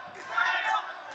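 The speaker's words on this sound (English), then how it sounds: "The crowd are going wild." A boxing match crowd between China and the Philippines shouting and cheering in a brief, dense roar of mixed voices, swelling slightly in the middle.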